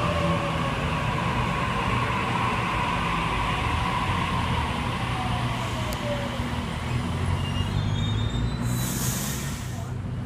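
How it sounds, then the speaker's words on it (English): A Sydney Trains A62 set pulls out of platform 2 at Canley Vale on a Leppington service, its low, continuous rumble and rolling noise steady throughout, with a faint voice in the background. "A62 departing platform number 2. Leppington."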